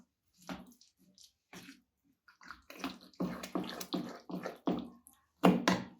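Thick semolina pancake batter is stirred with added water, making a series of soft, wet slaps and squelches that grow louder and more regular toward the end, close by and without talk.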